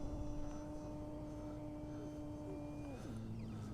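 Electric motor of a 3D-printed Eclipson APEX 2.3 m RC glider in flight under throttle, a steady buzzing whine with strong harmonics that holds level, then drops in pitch near the end as throttle eases; no talking over it.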